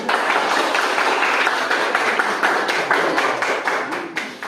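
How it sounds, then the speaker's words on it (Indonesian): Hands clapping in applause at a school guidance and counseling session with children, a dense, steady patter of many claps that continues evenly throughout, fairly close and loud. "Oke, tepuk tangan."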